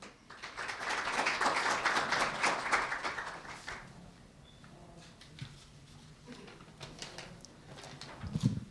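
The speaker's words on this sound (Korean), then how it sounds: "큰 박수 부탁드리겠습니다" Audience at a Korea University campus town conference opening ceremony applauds a speaker called to the stage, a broad wash of clapping that swells and then thins into scattered claps.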